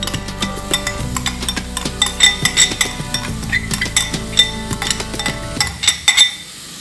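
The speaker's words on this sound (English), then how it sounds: "I'm now gonna add the onions, which I diced earlier." Diced onions going into a pan that already holds sweated garlic and ginger for butter chicken, with repeated clinks and scrapes of a utensil stirring against the pan and a faint sizzle underneath, no talking.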